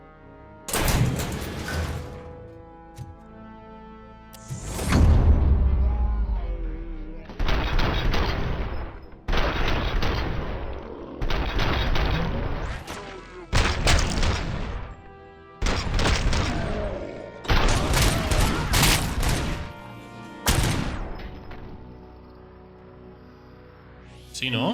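Repeated bursts of automatic gunfire in the RoboCop: Rogue City video game come in loud, dense volleys separated by short pauses, with booming impacts; someone speaks briefly between them.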